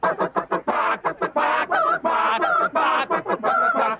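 A hen clucks and squawks repeatedly after laying an egg, close and loud, starting with short rhythmic clucks that build into longer, drawn-out cackling calls.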